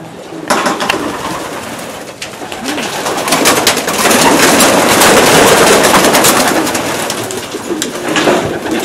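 Racing pigeons coo repeatedly and loudly up close, their soft throaty calls overlapping with wing flutters and loft rustling throughout, with no talking.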